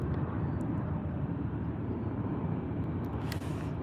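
Heavy airliner rolling down the runway on takeoff at Birmingham airport, a steady broad engine roar holding loud and continuous throughout, with no voices over it.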